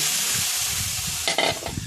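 Boiled potatoes and chana dal drop into a sizzling tempering of fried coconut, ginger and green chilli, giving a steady close frying hiss that flares into a sharper burst of crackle and stirring near the end.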